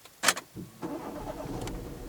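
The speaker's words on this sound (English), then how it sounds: "actually I'll start the car" A car's engine is cranked with a key and catches, a short starter whir giving way to a steady idle that stays close and fairly loud.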